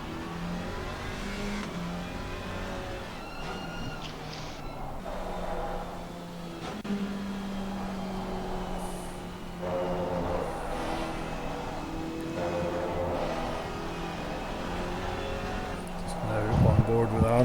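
Alpine GT4 race car in a GT4 racing video game at COTA, engine revving and shifting through gears over a long stretch, steady mid-level roar with commentators talking over it throughout.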